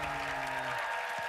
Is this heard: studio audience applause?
yes